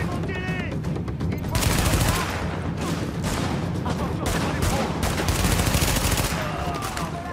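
Dense gunfire from the video game Tom Clancy's The Division rattles on almost without pause, loud bursts of shots and blasts layered over continuous game noise for about seven seconds.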